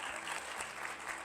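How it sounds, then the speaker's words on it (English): An audience applauds for a distinguished lecturer at a neuroscience and behavior lecture, a brief dense wash of many hands clapping steadily at even, moderate loudness. "yes, please clap."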